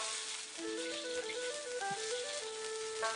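Chinese aged vinegar hitting hot oil in a wok with minced ginger, a steady close sizzle and hiss running throughout with faint tonal ringing over it.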